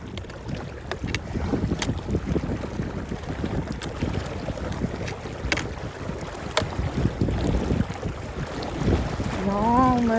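Wading through a rapidly flowing river, with steady rushing water and splashing close by as feet shuffle across, plus intermittent wind buffeting the microphone.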